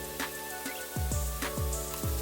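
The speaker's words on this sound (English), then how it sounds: "But I love the sound of bacon when it's cooking." Bacon sizzles in a pot with a steady crackling hiss, while a soft, regular thumping beat runs underneath.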